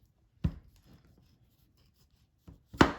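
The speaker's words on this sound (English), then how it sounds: "we're going to cut our avocado" A knife cuts into an avocado on a board, giving two sharp close contact sounds with a few faint scrapes between them, in a quiet kitchen with no talking.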